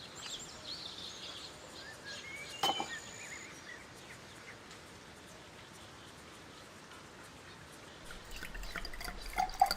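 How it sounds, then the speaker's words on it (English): Ink poured from a pen into a glass of water in a video game makes a few faint, close liquid drips and trickles over a quiet ambient hum, with a small splash near the end. "I spilt all the ink from the pen into the glass"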